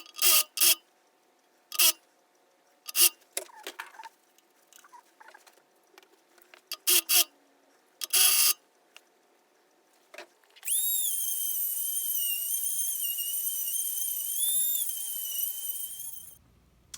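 A restored vintage Craftsman drill press bores out a hole, first with scattered clicks and handling knocks, then a steady high whining hum for several seconds that stops abruptly.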